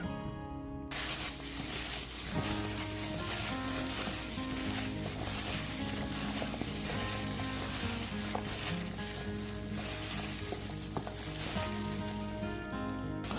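Korean cucumber salad tossed and mixed with roasted sesame seeds gives a steady, soft, wet rustling and crackling that runs for several seconds over quiet background music.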